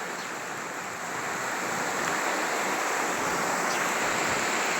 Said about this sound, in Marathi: पुलावरनं पाणी वाहून पाणी निघाले